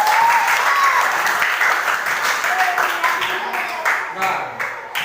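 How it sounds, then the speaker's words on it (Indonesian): A classroom crowd applauds steadily for several seconds for a student group, dense clapping that thins slightly toward the end, with faint voices calling out underneath. "Tepuk tangan untuk kelompok 3."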